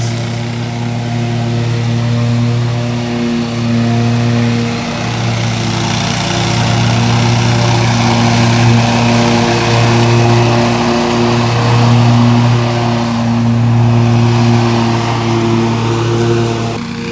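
A lawn mower engine runs steadily while mowing: a loud, close, continuous drone whose pitch and load rise and fall slightly throughout. No voices are heard.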